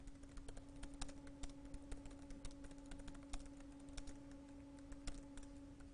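Code typed on a computer keyboard, with quick irregular key clicks, some sharper taps standing out, over a faint steady electrical hum in a quiet room.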